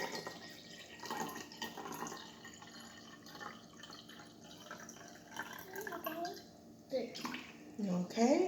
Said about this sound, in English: Fill the water up to that line.